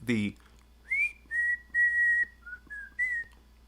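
Whistled theme melody from the video game Deadly Premonition, a short series of clear sustained tonal notes with brief gaps, rising and holding pitch, close and fairly loud after a brief burst of voice at the start.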